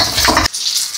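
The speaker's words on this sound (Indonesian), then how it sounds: "Masukin bawang sama cabai. Tumis-tumis dulu sampai matang." Onions and chilies sizzle loudly in hot oil for a moment, a dense close frying hiss that cuts off abruptly halfway through.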